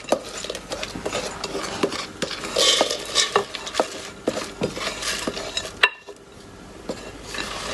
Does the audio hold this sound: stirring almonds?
yes